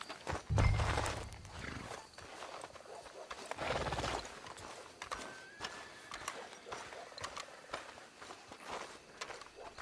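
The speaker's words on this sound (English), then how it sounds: "Let's leave the horses here." Horses in the video game Red Dead Redemption 2 snort and whinny close by, with hooves clopping and shuffling on the ground in irregular bursts.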